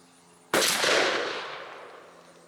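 A single loud, close shotgun blast from a Mossberg 500A pump shotgun firing a 3-inch Winchester Longbeard XR #6 turkey load, a sharp crack followed by a long decaying outdoor echo tail with no talking.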